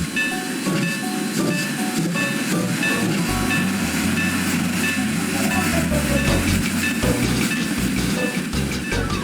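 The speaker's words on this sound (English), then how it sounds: "with a huge huff of steam, Larry set off down his branch line with his mixed train" A steam locomotive with a mixed train on a branch line rumbles and hisses steadily, with low chugging building as it gets moving and a continuous loud mechanical roar throughout.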